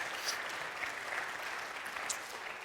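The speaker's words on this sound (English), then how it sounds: "did you give her a round of applause?" A church congregation gives a round of applause, a soft, even patter of many hands sustained for a few seconds, heard from a distance with no voices.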